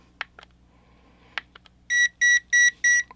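Device beeping during a 630nm LED red light therapy heat lamp temperature test: a few soft clicks and taps, then four loud, evenly spaced electronic beeps in a steady rhythm.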